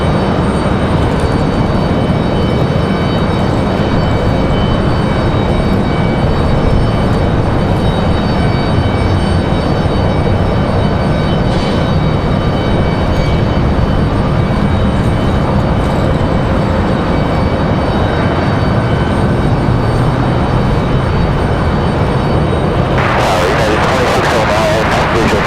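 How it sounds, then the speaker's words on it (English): A United Boeing 737 MAX 9 airliner arriving from SFO to land at Raleigh-Durham, heard as a loud, steady broadband engine roar that holds nearly constant for the whole span, with a brighter hiss swelling near the end. "United 2609 from SFO. Another 737 MAX 9."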